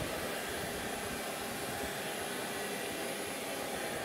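A DJI Spark drone hovers and tracks a person nearby, giving a steady, close, even whirring buzz from its small propellers with no break.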